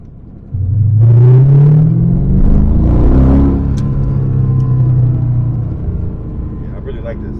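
A Porsche 911 997 carrying a swapped LS3 427 stroker V8 gives a quick throttle blip: a loud rising rev that settles back into a steady, rumbling idle, with a voice talking over part of it.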